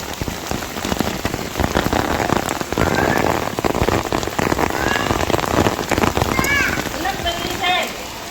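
Heavy rain pours down steadily onto surfaces, a loud, close, continuous drumming of drops, while people talk intermittently over it.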